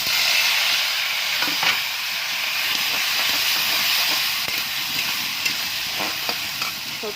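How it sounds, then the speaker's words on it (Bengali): Peanuts and coconut fry together in a pan, giving a steady, close sizzling hiss with occasional faint stirring scrapes, continuous throughout with no talking. "তো এখন আমি নারকেলটাও দিয়ে দিচ্ছি"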